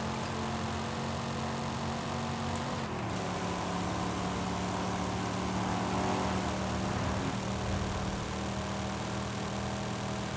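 A Ford Mustang Boss 302 in Forza Horizon 5 runs with the throttle held flat, a steady loud engine drone that shifts pitch about three seconds in and then carries on alone.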